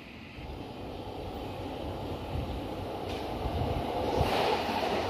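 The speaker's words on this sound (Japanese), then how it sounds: "今日乗る1本目の電車が高田馬場駅に到着です。" A Seibu 10000 series resistor-control train pulls into Takadanobaba station with a broad, steady rumble that swells gradually as it draws nearer, with no talking.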